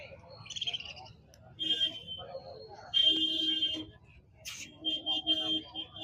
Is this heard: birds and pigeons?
yes